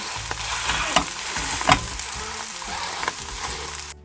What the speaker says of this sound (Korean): 계란이 어느 정도 익어가면 살짝 도톰해지거든요. 이때 살짝 뒤집어 주시면 됩니다.